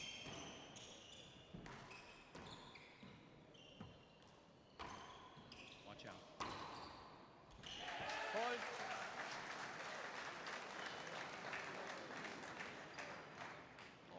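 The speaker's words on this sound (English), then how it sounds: "Crowd's going to erupt here." Crowd noise swells into applause after a winning point at a table tennis doubles match at the Ireland Worlds, following a stretch of ball taps and commentary. It rises loud and sustained for the last six seconds.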